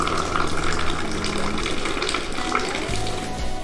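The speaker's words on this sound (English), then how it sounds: "You pour tea in a glass." Moroccan mint tea is poured from a teapot into a glass, a steady splashing, gurgling stream heard up close, continuous throughout with faint background noise.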